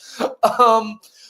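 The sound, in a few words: coughing and throat clearing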